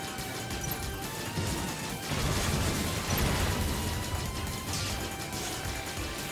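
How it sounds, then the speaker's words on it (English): A torpedo fired in the Final Fantasy VII submarine game gives a rushing, crashing burst of noise that swells in the middle and then settles into a steady wash, heard alone. "Whoops, I wasted a torpedo there."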